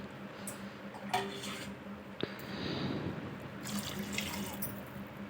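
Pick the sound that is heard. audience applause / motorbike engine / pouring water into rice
pouring water into rice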